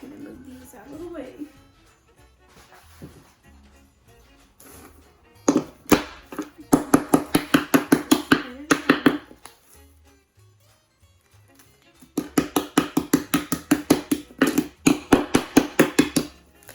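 Rolling pin pounding peppermint candies inside a bag, loud rapid bursts of repeated sharp knocks in two long runs, close and forceful, with talk mixed in earlier.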